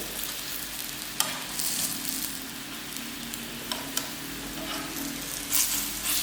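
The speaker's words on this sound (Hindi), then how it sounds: "आप इसको मीडियम आंच पर तलेंगे तो ठीक रहेंगे" Chicken vegetable rolls frying in hot oil over a medium flame, a steady close sizzle and crackle with a few sharp pops and clinks, no voices.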